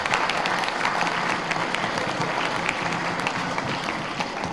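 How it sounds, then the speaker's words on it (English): Audience applause at a town hall meeting, steady and sustained dense clapping from a crowd, moderately distant, with no talk over it. "Let's give them a round of applause"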